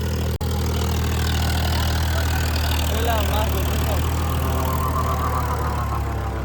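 A tractor engine runs at a steady idle near a flooded field, its loud, continuous low drone filling the whole stretch with faint voices underneath.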